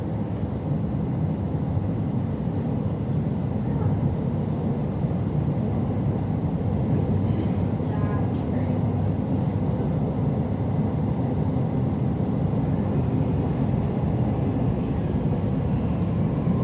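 A Melbourne City Loop train pulls away from Flagstaff underground station, a steady loud low rumble and roar of wheels and motors in the tunnel holding evenly throughout with no talk.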